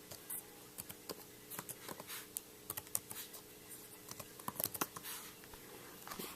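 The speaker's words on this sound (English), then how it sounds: "Just tap to click, scroll with 2 fingers like this." Light taps and clicks on a Chromebook touchpad come in quick, irregular bursts, soft and close, with no talking.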